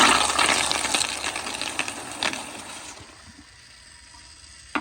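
A 1999 Kohler Highcrest toilet flushes with a loud rushing surge of water up close that gradually fades into a quieter trickle and refill.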